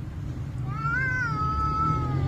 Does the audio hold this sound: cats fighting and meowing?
yes